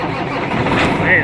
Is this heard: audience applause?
no